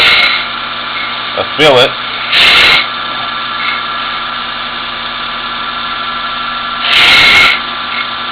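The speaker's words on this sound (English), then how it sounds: "I have this angle radius dresser, and I'm just taking my last little bit of cuts on it" A diamond angle radius dresser cuts into a grinding wheel with a steady close grinding hiss under a running machine hum, and brief rasping bursts break in as a person speaks a few words.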